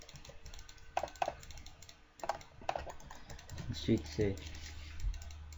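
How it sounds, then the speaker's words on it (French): Rapid computer mouse clicks come in short bursts during Minecraft play, fairly faint and mixed with keyboard tapping, with a voice talking over part of it. "désolé pour les spam clics de ma souris si vous les entendez"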